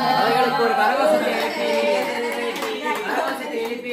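An audience at a birthday celebration claps for a celebrity guest, a scattered round of applause mixed with lively chatter and voices talking over it.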